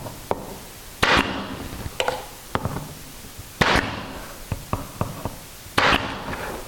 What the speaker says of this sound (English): So now all I have to do is put some nails right through